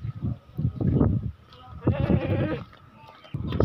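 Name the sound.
goat bleating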